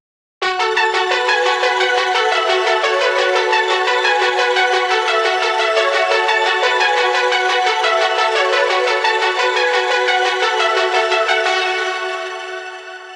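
Second melody from the drop of a liquid drum and bass track: a bright, rapidly repeating synth pattern plays steadily and loud for about twelve seconds before tapering off.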